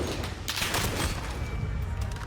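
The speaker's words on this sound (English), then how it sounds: "Just great M4 shots from Assault." M4 rifle fire in a Call of Duty League match, a faint burst of rapid gunshots from a distance with game ambience around it.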